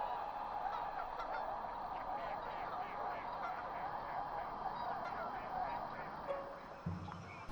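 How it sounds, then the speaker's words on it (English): A flock of white-fronted geese honks continuously while preparing to land in a flooded rice field, many overlapping calls at moderate distance over a steady outdoor background. "A flock of geese prepares to land in one of the flooded rice fields."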